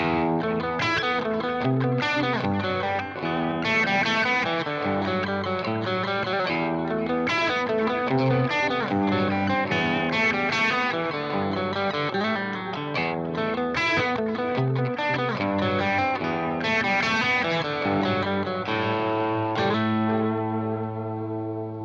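Gibson Les Paul electric guitar played with a clean tone and delay, notes ringing and repeating in echoes, steady and full throughout with no talking.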